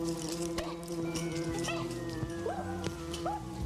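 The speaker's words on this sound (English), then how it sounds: "Damn bee. There's a whole swarm of them." A swarm of bees drones outdoors at night, a steady, close, continuous buzz with wavering tones running the whole time alongside other background sounds.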